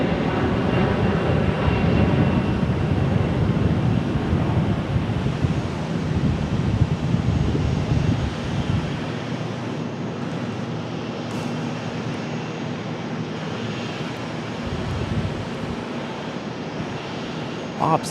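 American Airlines jet at Charlotte airport, a loud continuous engine roar with wind buffeting that gradually eases into a steadier, fainter rumble, with a voice talking over it.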